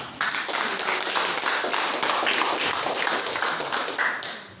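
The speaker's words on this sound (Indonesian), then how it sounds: "Baik, silakan tepuk tangan" A junior high school class claps hands together in a dense, steady patter that runs evenly through the whole stretch, nearby and fairly loud, with no clear talking.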